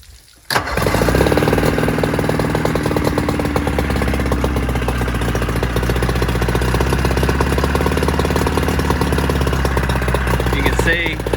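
A 1956 Johnson 30 horsepower outboard motor, run on a garden hose flush adapter, starts up and settles into a steady, loud idle close by, its rapid even firing continuing unbroken for over ten seconds.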